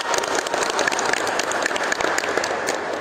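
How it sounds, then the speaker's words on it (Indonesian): Children clap their hands together during an online Sunday school session, a steady burst of dense clapping that fills the short stretch at full loudness. "Tepuk tangan dulu dong."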